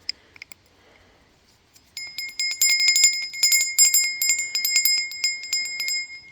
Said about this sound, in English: But yeah, still sweet little bell.